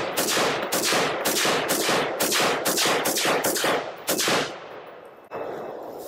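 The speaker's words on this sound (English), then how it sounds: "Let's shoot some more rounds with the blast shield this time and see how much louder it gets" A rifle fitted with a three-prong flash hider and blast shield fires a rapid string of about a dozen loud, sharp gunshots at an uneven pace, each cracking out close, before the reports stop and a fading outdoor echo remains.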